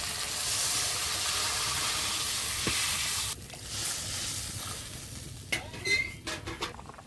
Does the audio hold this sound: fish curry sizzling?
yes